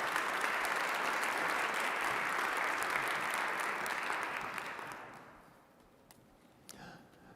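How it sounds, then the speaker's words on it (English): An audience at an official investiture ceremony during inauguration week breaks into thick, sustained applause that holds strong for about five seconds, then thins out to a few scattered claps. "Let's give them another round of applause,"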